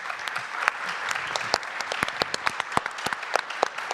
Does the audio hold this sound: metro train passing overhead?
no